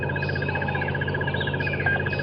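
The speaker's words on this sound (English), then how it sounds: "that bird, that monotonous trilling sound that is coming from somewhere above me" From somewhere above on a sunrise safari drive in the bush, a bird gives a monotonous, evenly pulsed trill that repeats without pause over a faint low background hum.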